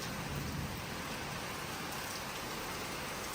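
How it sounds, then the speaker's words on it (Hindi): Heavy, steady rain pours down during Cyclone Garance in Mauritius, a dense continuous downpour with no voices. "बारिश हो रही है"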